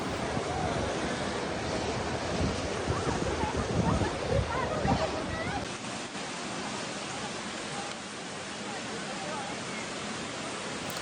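Floodwater rushing rapidly through city streets in Mecca, Saudi Arabia, a continuous broad roaring wash of moderate loudness with no breaks, mixed with wind-like noise.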